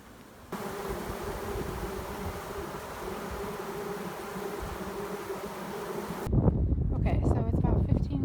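A honey bee swarm hums in a dense, continuous buzz that fills the air, then gives way to rough wind and handling noise toward the end.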